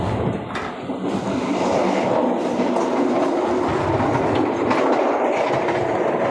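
Steady rumble inside an executive carriage of the Argo Dwipangga express between Jakarta and Yogyakarta or Solo, with rhythmic clickety-clack of wheels on rail joints. The sound is continuous and fairly loud, with no talking.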